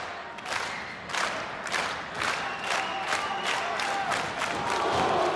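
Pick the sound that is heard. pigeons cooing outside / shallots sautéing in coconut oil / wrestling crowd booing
wrestling crowd booing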